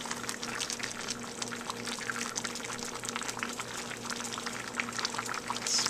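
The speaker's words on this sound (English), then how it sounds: "The noodles are definitely starting to cook." Lasagne noodles simmer in liquid in a skillet, giving a steady bubbling, pouring-like wash of liquid sound with a low hum beneath, continuous and fairly close throughout.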